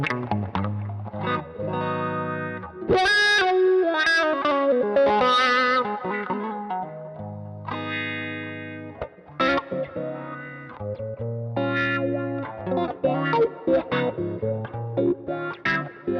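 Clean electric guitar played through a modified Mesa Boogie wah pedal, with chords and single-note lines that sweep in tone, loud and close, and no voices.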